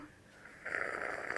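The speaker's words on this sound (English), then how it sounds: "again, as loud as you can slurp." Someone at a Starbucks coffee tasting slurps coffee hard for a single loud, rough, breathy pull lasting under a second, close to the microphone after a quiet lead-in.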